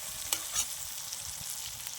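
Ground spices fry in a pan with a soft, steady hiss and sizzle, punctuated by a couple of faint stirring scrapes, fairly quiet and close, with no voices.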